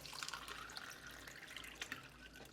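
Faint tap water runs in a steady, quiet splash at a kitchen sink while hands are washed before mixing flour for Jamaican dumplings.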